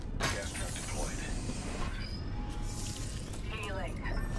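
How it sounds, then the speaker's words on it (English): Train rolling through an Apex Legends match, a steady rumbling clatter with metallic squeals, loud and continuous, overlapped by game effects and voices. "Train's moving."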